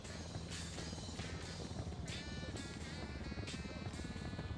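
Helicopter in the Ghost Recon Wildlands video game, a steady loud rotor drone passing overhead with rhythmic blade pulses, thick and continuous throughout.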